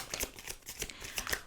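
Tarot cards are drawn and handled close by, making a quick series of faint papery snaps and slides in an uneven rhythm, with no voices.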